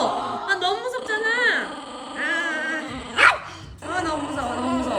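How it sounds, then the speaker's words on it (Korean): A small dog gives sharp barks and low growls at a baby, close and fairly loud, while people talk over the noise throughout. "엄청 무서운 강아지"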